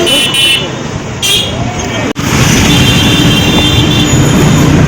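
Busy street traffic surrounds a van rickshaw ride, a steady loud wash of road noise with engines and a brief horn toot, and voices talking over it throughout.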